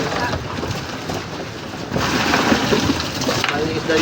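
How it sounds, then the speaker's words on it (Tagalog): Strong wind roars across the microphone at sea off Dilasag, Aurora, while fish are being unloaded, a steady broadband rush that swells louder midway, with faint voices underneath. "Malakas na naman ang hangin mga idol."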